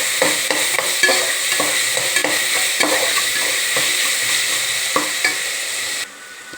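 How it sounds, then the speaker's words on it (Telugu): Frying pieces of food with salt and ginger paste being stirred in a pan over a medium flame, steady loud sizzling with a regular rhythm of scraping stir strokes, close up and with no voices. "అవి కొంచెం తిప్పుకుందాం, మీడియం ఫ్లేమ్లో పెట్టుకోండి"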